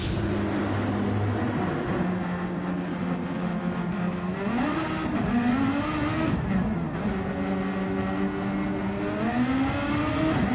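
A Ferrari race car pulls into the pits in a racing video game. Its engine hums steadily and loudly, with the pitch dipping and rising as it slows and shifts, and it sounds close throughout.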